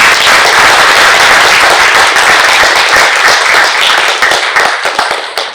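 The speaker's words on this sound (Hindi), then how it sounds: "उनके स्वागत में एक बार जोरदार तालियां बजाएं।" Loud, dense applause from an audience welcoming a guest at a pyramid meditation centre in Vadodara, sustained throughout before thinning into scattered claps at the end.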